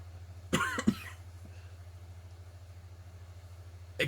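A person coughs close to the microphone, with a short burst of two or three coughs near the start and one more at the end, over a steady low hum in an otherwise quiet room.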